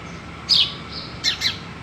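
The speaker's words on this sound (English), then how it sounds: "The sparrow over here is probably singing the song of joy" Small sparrows chirp outdoors in short, bright bursts, one brief call followed by a double chirp near the end, each sitting over a quiet background hum.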